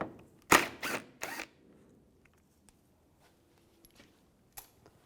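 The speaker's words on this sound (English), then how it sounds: "we're going to take these two screws out, use a T30 socket" A T30 socket on a ratchet backs out headlight screws on a 2004-2010 BMW X3, three quick loud clicking bursts close up, then near silence with a few faint ticks.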